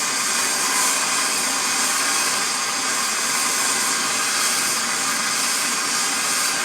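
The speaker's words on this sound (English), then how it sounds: "Alright, I'm going to heat this ring" A torch blasts a steady, loud roaring hiss while heating a coin ring until it glows, continuous and close, with no talk.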